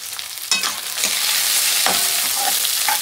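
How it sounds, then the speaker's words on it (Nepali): Onions frying in a pan as the base for a fish curry gravy, a strong close sizzle that swells after a few stirring scrapes and then holds steady. "यसलाई चाहिँ हल्का रातो हुने बेलासम्म भुट्नुपर्छ।"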